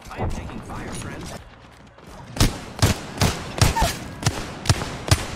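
Gunfire in the game Apex Legends, a series of sharp regular shots in the second half over continuous game background noise, with a voice talking early on.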